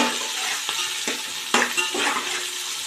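Chopped onions sizzle and fry in a pot for biryani, with a steady hiss broken by a few sharp scrapes and clatters of a spoon stirring them, close and fairly loud.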